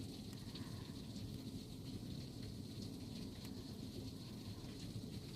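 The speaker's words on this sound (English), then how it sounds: "It's pouring rain out and thunder and lightning, which is very rare for us." Heavy pouring rain in Newfoundland hisses steadily and close throughout, with a low rumble of thunder rolling underneath the downpour.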